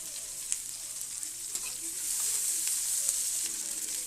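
Onion, dried red chili and asafoetida sizzle in hot tempering oil, giving a continuous bright crackle up close that swells slightly partway through, with faint stirring knocks.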